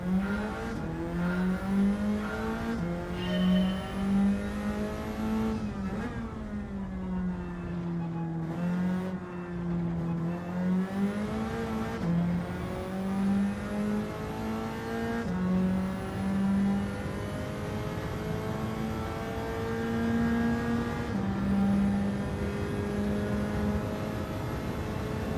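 A race car engine in Gran Turismo 7 revs and pulls through gear changes, rising and falling in pitch with repeated upshifts and one brief lift off the throttle, a steady loud drone over about twenty-five seconds.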